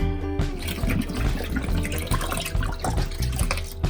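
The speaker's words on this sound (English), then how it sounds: "I'm just going to pour them in." Liquid RIT dye, black and charcoal gray, pours steadily into a container with a continuous splashing, gurgling rush and no voices.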